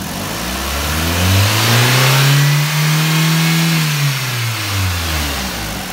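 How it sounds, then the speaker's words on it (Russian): Chery Tiggo engine revved up to 5000 rpm on a test stand, rising to a loud, strained whine that holds then drops back, close and alone without talk. "Работа двигателя 5000 оборотов."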